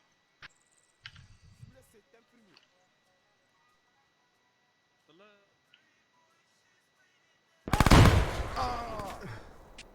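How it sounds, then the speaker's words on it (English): A grenade explosion in the military shooter Arma 3 bursts loudly near the end, a sharp blast followed by a decaying rumble, after quiet stretches of scattered small sounds and brief talk. "We had an explosion go up here. Someone's throwing grenades at us."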